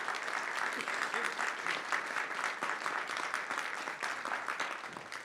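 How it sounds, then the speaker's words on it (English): Sustained applause from an audience at a college State of the College address, honoring faculty, chairs and staff; steady, dense clapping fills the room for several seconds, moderately loud with no speech over it. "Let's give them a round of applause, please"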